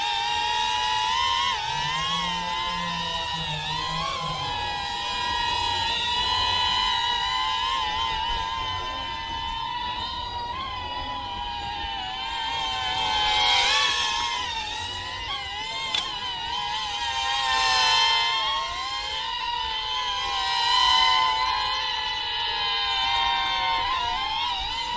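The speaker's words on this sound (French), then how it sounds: "on arme les moteurs" An FPV drone from a Hisingy Sunray beginner kit arms its motors and lifts off, a continuous high whining buzz with shifting pitch that surges and swells several times as it flies.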